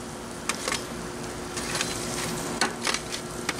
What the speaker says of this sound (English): I'm going to add a little bit of sauerkraut and some of that juice in here